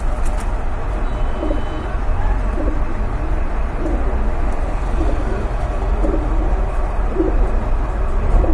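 Pigeons in a Bengali pigeon-selling loft, including a pair of silver running pigeons, coo in low soft murmurs that repeat over steady background noise throughout.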